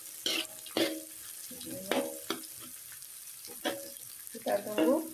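Sliced chili and kaffir lime leaves frying in a pan while being stirred, with a steady sizzle and several louder scraping stirs spaced across the moment, fairly close.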